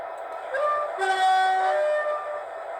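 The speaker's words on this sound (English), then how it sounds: "we've got the double horn" A Bachmann Class 57 model train with DCC sound sounds a horn with two tones together, a sustained blast lasting about a second over a faint mechanical hum.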